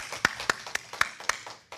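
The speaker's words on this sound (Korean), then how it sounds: "우리의 예배를 기쁨으로 받아주신 주님께 영광의 박수 올리도록 하겠습니다" A Korean church congregation gives rhythmic applause during a worship service, about seven evenly spaced sharp claps, quiet and slightly distant.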